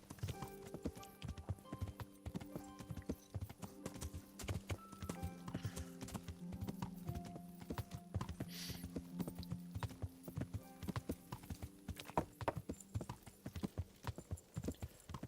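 Rhythmic clip-clop of horse hooves trotting steadily in the video game Kingdom Come: Deliverance, with an occasional faint whinny, evenly looped, no talking.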